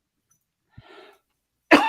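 A single close, dry cough from a person at a microphone, short and sharp, followed after a pause by a louder second burst, with near silence around them.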